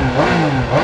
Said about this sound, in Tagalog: Signature 3-cylinder engine ng Triumph.